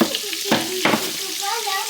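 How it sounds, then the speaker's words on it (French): Butter melting in a pan with a sugar addition, a steady close sizzle with a couple of stirring scrapes and clinks, no talking. "On va venir mélanger. On attend bien que le beurre fonde bien."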